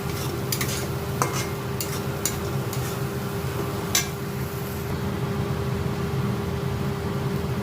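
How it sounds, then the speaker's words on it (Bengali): Steady sizzling of ginger, garlic and chili paste frying in a hot pan, with occasional scraping clicks from a spoon stirring it, continuous and close. "আমি আদা, রসুন আর লঙ্কার পেস্টটা দিয়ে দিয়েছি। ভাজা ভাজা করবো মশলাটা।"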